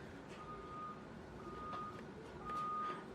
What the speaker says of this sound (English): a school bus is backing up with the beepy noise